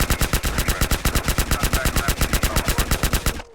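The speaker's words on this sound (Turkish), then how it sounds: "Bütün mermimi harcadım" Automatic gunfire in the video game GTA San Andreas: a rapid, steady stream of loud shots, around ten per second, runs unbroken for over three seconds and then cuts off abruptly.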